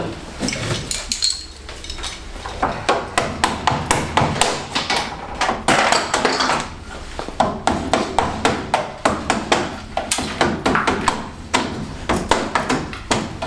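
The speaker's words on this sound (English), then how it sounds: "just using a plastic mallet, side on apparently, and then plastic top" Plastic mallet tapping on a classic Fiat 500 door, a close, rapid series of sharp knocks in uneven bursts throughout, with no talk.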